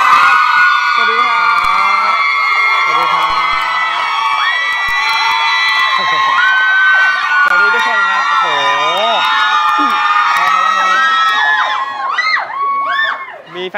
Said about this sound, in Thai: ขอเสียงปรบมือต้อนรับคุณกัณฑพัฒน์นิดนึงครับ